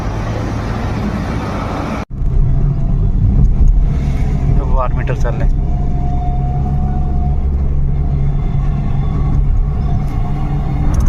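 Cars on a road trip toward Shimla, heard as a steady low road rumble from inside a moving vehicle throughout, with a brief dropout early on and people talking over it.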